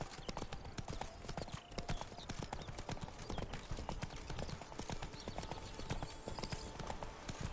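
Roach, a horse in a video game, trots with steady, close clip-clopping hooves that run throughout, sitting within dense game ambience.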